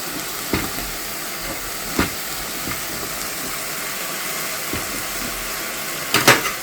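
Food fries in a pan at a home cookery show with a steady, close sizzle and hiss, broken by a few sharp clicks of stirring. No one speaks.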